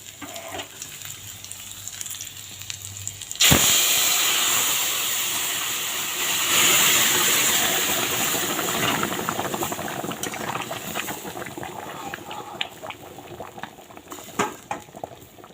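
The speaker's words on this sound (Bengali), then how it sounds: "এখন আমি এর মধ্যে ডালটা ঢেলে দেব।" Lentils for a dal with radish and ginger are poured into a pot, making a sudden loud rushing splash that settles into steady bubbling and boiling hiss, close and without talking.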